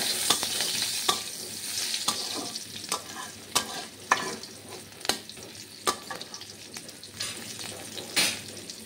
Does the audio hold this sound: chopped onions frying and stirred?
yes